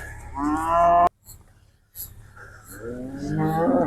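Cattle being moved on a regenerative ranch, with calves among the herd, give two loud drawn-out moos, one early and one late, separated by a short quieter gap with faint rustling.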